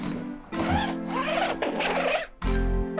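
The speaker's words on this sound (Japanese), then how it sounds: "一回このチャックを全部開けちゃいましょうか" Zipper on the fabric seat-cushion cover of a sofa being pulled open, a continuous close ripping zip with a couple of pauses and restarts, loud and alone.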